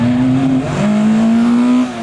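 Ford rally car on a live rally stage at the Race Retro Show, engine loud and close with a strong held note that drops briefly on a gear change then climbs again before easing off.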